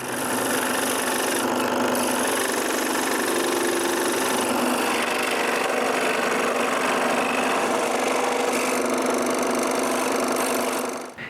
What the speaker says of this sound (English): I mark the secret code inside each ring and cut a notch at the scroll saw